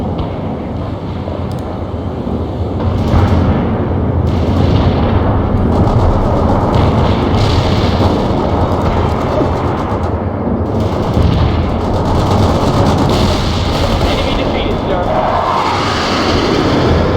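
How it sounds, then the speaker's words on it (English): Napalm strike explosions in the video game World in Conflict: a loud, continuous roar of fire and rumbling blasts that swells and persists, with scattered crackles and distant booms layered on top. "Napalm strike inbound."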